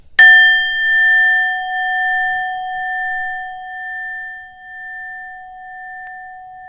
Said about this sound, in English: I'm going to chime my singing bowl